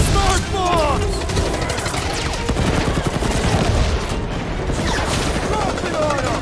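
Smart bombs explode amid a chaotic Guardians of the Galaxy video game battle, with rapid bursts and crackling blasts overlapping continuously while voices talk over the combat noise.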